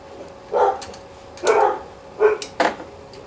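Dogs bark outdoors near a workspace where an ATV is being rewired, four distinct bark bursts spaced unevenly, moderately close and clear against a quiet background.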